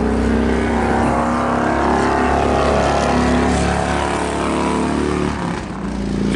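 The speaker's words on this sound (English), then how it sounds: "Just waiting on the motorcycle to go by." A loud motorcycle passing by close, its engine roar sustained and strong before dropping away near the end, heard alone without talking.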